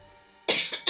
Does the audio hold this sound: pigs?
no